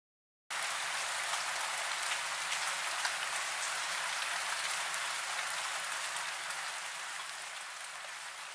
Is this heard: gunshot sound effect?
no